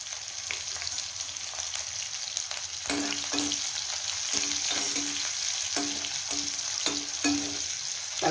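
Cumin seeds and green chillies, whole and chopped, frying with asafoetida in hot oil in a kadhai for a tadka: continuous close crackling sizzle with intermittent clinks of a spoon stirring, no talk.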